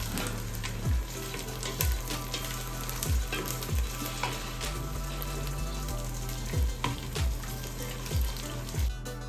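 Onions frying with ginger-garlic paste for a Pakistani Eid pulao, a steady broadband sizzle with repeated low scraping thumps of a spoon stirring the pan at an uneven rhythm, close and fairly loud, no voices.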